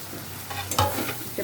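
Grated egg tipped into a pan with capsicum and spices, followed by a few scraping stirs against a low frying hiss, with a brief louder clatter midway; no voices.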